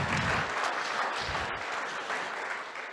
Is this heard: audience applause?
yes